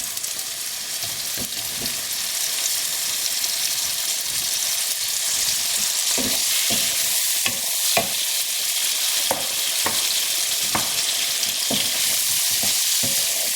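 Tomatoes added to sizzling spices in a pan for a king prawn bhuna curry: a constant, close frying hiss punctuated by periodic stirring knocks and scrapes, with no talk.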